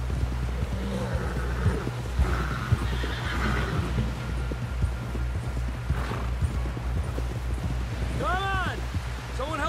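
A horse whinnies loudly near the end, over a steady low rumble with hoofbeats and scattered game-like effects throughout, in Red Dead Redemption 2.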